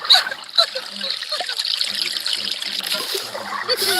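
Shower water runs in a mobile video game as a steady close trickle and splatter, with faint game sounds mixed underneath.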